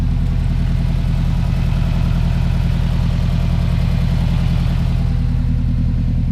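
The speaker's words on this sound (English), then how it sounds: "Hear my exhaust." A car engine idles loud and close with a steady, throbbing exhaust pulse and a deep rumble that holds evenly throughout, with no voices over it.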